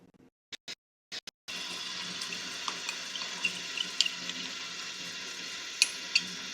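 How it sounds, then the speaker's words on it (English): Cold water running from a tap into a small Instant Pot Mini 3.8 L inner pot, a steady close splashing stream that starts abruptly after a few short clicks and knocks, with faint clinks over it. "put a tiny little bit of water, cold water in this to mix it up"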